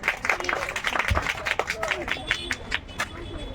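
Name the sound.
audience applause at a cultural programme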